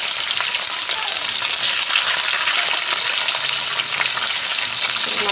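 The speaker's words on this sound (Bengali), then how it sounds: "মাছগুলো ভেজে নিই।" Pieces of shol fish frying in hot oil, a dense continuous sizzle and crackle heard close up, steady and loud throughout with no voices.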